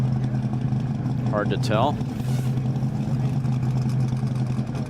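The Speed Demon land speed car idles on the salt flats at Speedweek, a steady low engine drone throughout, with a person speaking briefly over it.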